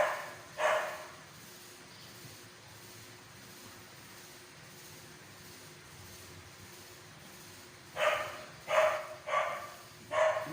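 A dog barks, faint and somewhat distant, with a single bark early on and then a quick run of four barks near the end, a quiet room tone between.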